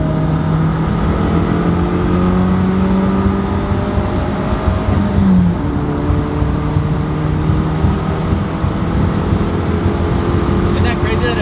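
A Mitsubishi Evo wagon's turbocharged engine pulls in fourth gear at partial throttle, its drone rising steadily in pitch as it accelerates, loud and continuous, with voices talking over it.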